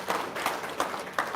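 A small group applauds during a casual conversation: several rhythmic bursts of clapping, about four evenly spaced claps, moderately quiet and close, with no talk over them.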